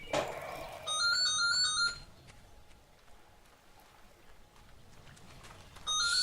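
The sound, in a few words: phone ringing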